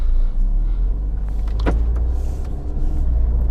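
A Peugeot 2008 Style Turbo, a light compact SUV, rumbles at low speed as it pulls away. A brief whirring sweep rises over the steady engine drone, with no talking.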